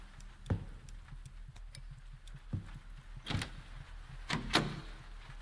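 A locked door is tried in the horror video game Lost Child: a series of faint, scattered rattles and knocks that repeat at uneven intervals over low background hum.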